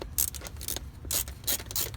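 A hand ratchet clicks in several quick bursts while loosening the positive battery terminal nut on a Dodge Avenger, each burst a close, crisp run of pawl clicks with short pauses between.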